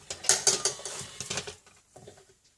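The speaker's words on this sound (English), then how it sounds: "We're going to use some 1/8 inch score tape" A strip of 1/8 inch score tape is pulled off its roll for adhesive while making a card, giving a quick run of crackly, ratcheting tears that fade into a few softer handling sounds near the end.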